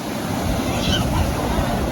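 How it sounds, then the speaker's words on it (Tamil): Strong wind gusting across Besant Nagar beach in Chennai, a steady broadband roar buffeting the microphone with surf mixed in, continuous and loud for the whole stretch. "காற்று செமையாக அடிச்சுட்டு இருக்கு."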